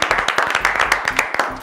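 A classroom group gives a short burst of applause for a team, several pairs of hands clapping irregularly and close by for under two seconds.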